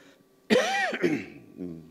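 A single throaty, rasping clearing of the throat, close and fairly loud, with no talking around it.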